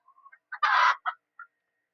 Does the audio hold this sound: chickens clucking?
yes